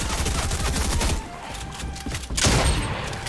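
SMG bursts in Fortnite fired at wolves, dense rapid volleys of close, loud gunshots with thuds, a brief lull, then another burst.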